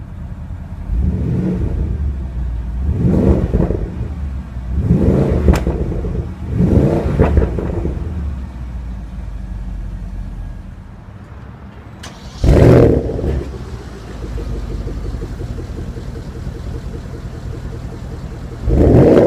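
A 2016 Porsche Panamera Turbo engine cranks and fires with a loud rising roar. It then drops to a steady idle with several revving swells, followed by a second sharp startup burst and more idling.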